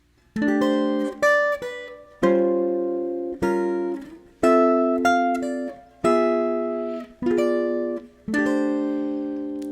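A clean electric jazz guitar plays a melodic line over a 1-6-2-5 progression ending on C6/9, plucked chords and single notes, each ringing and decaying, with no talking.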